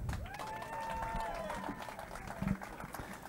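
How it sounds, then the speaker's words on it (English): An audience at a fishing tournament championship weigh-in gives brief, fairly distant applause mixed with whistles and murmuring voices. "Let's give a big round of applause"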